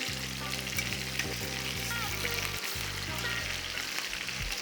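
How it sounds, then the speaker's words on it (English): Steady, dense sizzling of chicken wings shallow frying in hot ghee, crackling continuously up close while low background music plays underneath. "while we are frying them or shallow frying them, I would say in the ghee"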